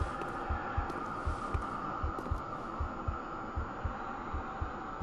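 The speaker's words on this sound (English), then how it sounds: "how can I hear a heartbeat though?" Slow, regular thumping heartbeat in a video game, low and muffled, pulsing steadily over a faint background hum.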